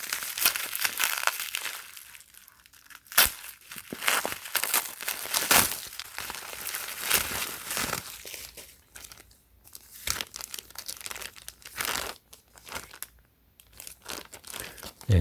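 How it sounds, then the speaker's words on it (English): Close crinkling and crumpling of a bubble envelope package holding a MacBook battery as it is handled and opened, with dense irregular rustles and tearing-like crackles throughout and no talk. "So it packed with this bubble envelope."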